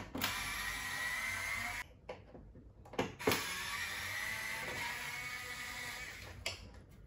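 Screws being undone on the motor case of a Melitta Barista TS coffee machine with an electric screwdriver, sustained close whirring broken by short pauses and clicks.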